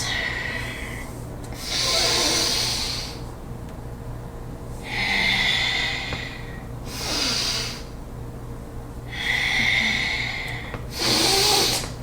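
Deep yogic breaths drawn down into the lower body during a restorative yoga flow are heard as five strong, airy inhales and exhales in a slow, even rhythm, close to the microphone, with no talking.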